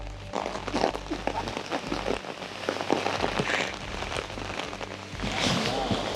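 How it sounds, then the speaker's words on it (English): Heavy rain patters densely and steadily, a continuous crackling wash of drops striking surfaces nearby. "And just as I said that, it started raining harder."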